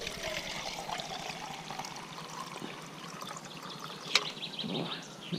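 Water trickles and pours steadily into a pot for boiling on a BRS 3000T ultralight backpacking stove, a continuous gentle splashing stream with a small clink near the end.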